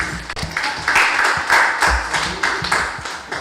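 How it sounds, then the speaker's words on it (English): An audience at a consultation on women's and gender rights gives a round of applause, a steady, dense wash of many hands clapping for a few seconds, fairly loud and close, with no clear speech. "Give Gino a big round of applause, please"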